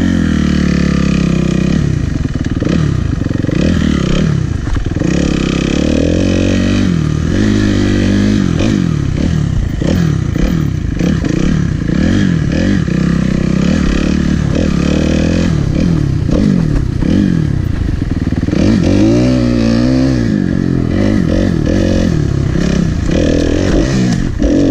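An endurocross dirt bike with a weak stock motor and aftermarket suspension rides a private practice track, its engine loud and close the whole time, revving and bogging in rough bursts with clattering and scraping over terrain.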